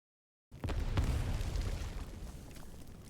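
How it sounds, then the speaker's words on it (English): A loud explosion in the Arknights video game bursts in abruptly after a short silence, a heavy low boom that swells and then rumbles on, slowly fading without dying out. "A loud explosion rings out high above, and its massive shockwave shoves Jessica to the ground."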